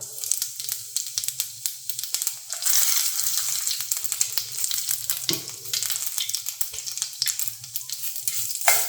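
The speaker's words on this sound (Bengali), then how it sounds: "এবার তেল গরম হয়ে গেছে এর মধ্যে দিয়ে দেবো গোটা জিরে আর শুকনো লঙ্কা" Whole cumin seeds and dried red chillies sizzle in hot oil, a dense, bright crackle that keeps up steadily at close range, with a few soft clinks and stirs.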